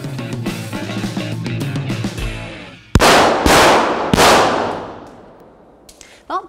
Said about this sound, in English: so when you walk in, you should expect people to be shooting